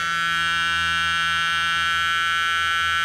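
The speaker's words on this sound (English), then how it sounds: "Sorry, annoying buzzers" A steady, loud electrical buzzer, a voltage tester checking speaker wiring on a 1977 Lincoln Town Coupe, drones continuously without a break, a harsh rich tone holding at one pitch.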